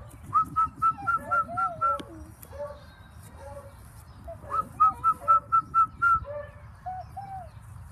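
A person whistles two quick runs of short, repeated notes outdoors near chickens, with faint talk and bird sounds in between.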